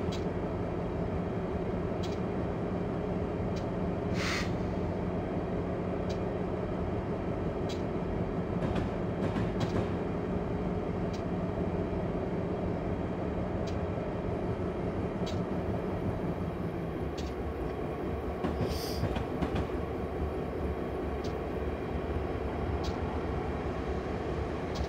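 A train passes on the Bergen Line in Train Simulator, a continuous loud rumble and roar of rolling wagons with occasional sharp squeals and clanks, alone without talk.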